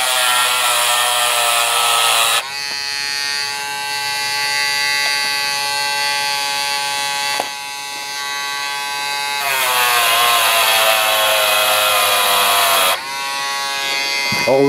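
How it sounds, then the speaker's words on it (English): Dremel rotary tool spinning a brass wire brush against a model railway wheel, a steady high-pitched whine in several bursts with brief pauses and pitch dips as the brush loads against the metal, close and loud. "Always use a brass brush in the Dremel."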